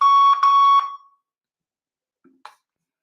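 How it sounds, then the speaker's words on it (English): A voicemail recording beep sounds as a single loud, steady electronic tone lasting just under a second, followed by near silence and a couple of faint clicks. "Please record your message after the beep."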